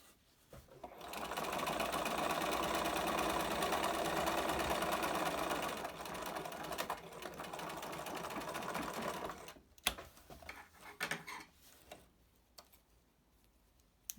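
Sewing machine stitching a closed seam along the edge of a fabric filter mask, running steadily and loudly for several seconds, then stopping, followed by a few scattered clicks and handling sounds.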